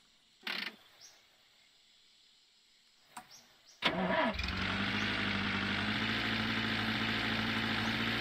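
In The Long Drive video game, a few faint clicks and rattles, then a truck engine turns over and settles into a loud, steady running drone that continues to the end.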